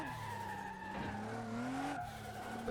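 A car drifting on a mountain road in Assetto Corsa, tires squealing in a long rising and falling howl over the engine's steady drone, close and continuous.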